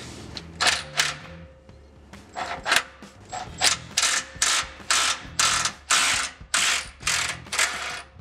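A socket ratchet with a swivel adapter turns the bolts on a catalytic converter shield under a 3.5L Tacoma, giving repeated close, loud bursts of rapid pawl clicking in a steady back-and-forth rhythm with no talk.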